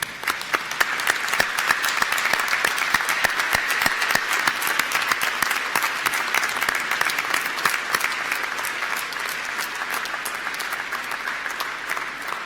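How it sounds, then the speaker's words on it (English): Sustained, loud applause from a graduation audience at a college ceremony, dense clapping holding steady for the whole stretch with no voices over it. "give a huge round of applause to"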